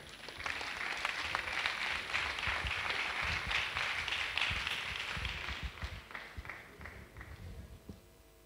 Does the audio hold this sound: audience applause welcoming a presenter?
yes